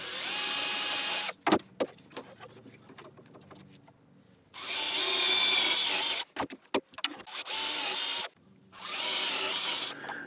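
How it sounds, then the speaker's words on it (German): A power drill with a 6 mm bit bores holes in wood in three loud sustained bursts of whirring, separated by quieter clunks and handling knocks, close up and without talk. "und da bohren wir mal Löcher rein."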